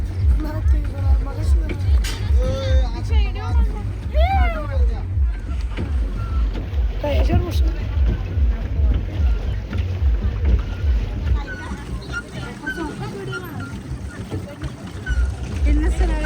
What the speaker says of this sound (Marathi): आम्ही खूप जोर लावून पॅन्डल मारत होतो